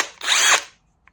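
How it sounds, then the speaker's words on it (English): A Hercules impact drill from Harbor Freight whirs loudly in a single short burst of about half a second, spinning up and winding down, followed by quiet and a faint click. "we had to use the Hercules impact drill"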